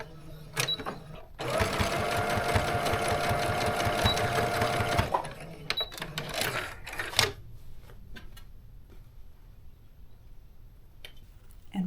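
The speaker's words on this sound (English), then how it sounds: "I am just going to top stitch close to that edge" A home sewing machine top stitching along the edge of a fabric scrunchie: a steady, close mechanical whirring burst lasting a few seconds, followed by clicks and handling noises of the fabric and machine.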